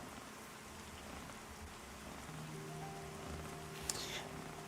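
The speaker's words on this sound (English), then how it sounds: "they've admitted that the rain's going to get some more work done on the graphics, but the sounds are dead on." Steady rainfall in the Pantheon MMO video game, a soft even hiss of falling drops that carries on throughout, with a faint tonal hum rising underneath partway through.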